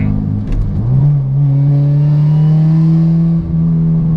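A supercharged 2011 Honda Civic Si engine revs up hard with a rising high-pitched supercharger whine that holds loud and steady as the car accelerates, close and continuous.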